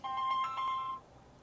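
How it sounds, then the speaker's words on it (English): A mobile phone ringtone plays a short, bright melodic chime for about a second, fairly faint and alone before cutting off. "Oops, that's my phone."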